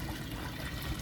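Running water splashes and trickles steadily as chicken feet are washed in a kitchen, a soft continuous wash of liquid at low level with no voices.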